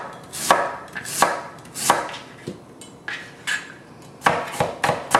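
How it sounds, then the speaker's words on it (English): A knife chops raw radish for kimchi on a cutting board in a series of sharp, close knocks, about nine irregular strikes, some in quick pairs, with no talking. "Here we're chopping the radish."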